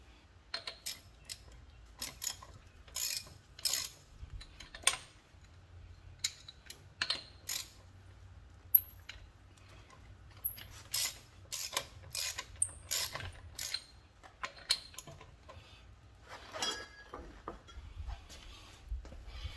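A locking lug nut is worked loose from a vehicle wheel with a deep well socket: irregular metallic clicks, ratcheting ticks and clanks come close up in scattered bursts, with no talking.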